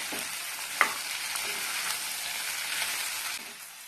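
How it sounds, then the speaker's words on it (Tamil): Chopped ivy gourd (kovakkai) and onions fry in a pan, with a steady close sizzle, a sharp clink of a spoon near the start, and light stirring scrapes before the hiss eases slightly at the end. "ஒரு 10 நிமிஷத்துக்கு நல்லா வதக்கி விட்டுட்டே இருங்க."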